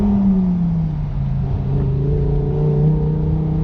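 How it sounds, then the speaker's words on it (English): A car launches hard at a driving experience track in Bridgewater, New Jersey, all four tires spinning, giving a loud, steady engine whine and rising rumble that holds for several seconds up close. "All 4 tires are spinning."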